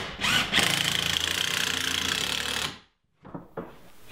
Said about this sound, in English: And then I'm just sinking 3 screws in here.